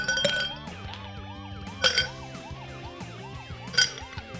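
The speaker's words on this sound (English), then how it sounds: "Fill a tall glass with ice." Ice cubes drop into a tall glass, three bright clinks spaced about two seconds apart, heard over a background of sweeping, siren-like electronic music.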